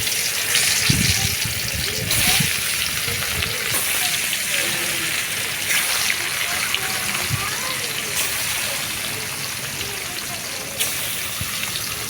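Pieces of rohu fish drop into hot oil for a Bengali fish curry with broad bean seeds, setting off a steady, fairly loud sizzle and crackle that runs throughout with brief bursts and clatters.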